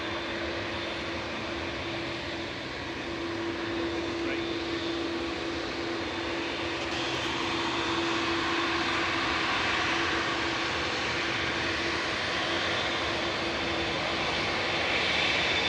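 A Lufthansa airliner from Frankfurt touches down at Manchester Airport, a continuous jet roar with a steady humming tone that slowly swells louder toward the end, no speech present.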